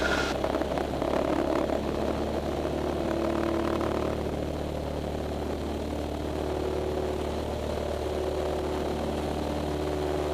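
A small training airplane's piston engine drones loud and steady through a night takeoff roll, a constant close propeller roar with a faint rising tone as the aircraft accelerates.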